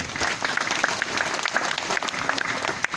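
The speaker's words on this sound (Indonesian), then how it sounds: "Teman-teman majelis boleh tepuk tangannya ikhlas semuanya." A crowd at an Islamic religious study gathering claps steadily and fairly loudly, a dense, even roar of many hands filling the whole stretch with no break.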